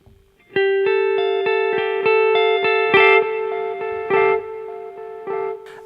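Electric guitar through a Vein-Tap Dark Times delay pedal set to a long, spacey delay time, one sustained note repeating in evenly spaced echoes with a few added picked notes, clear and alone without speech.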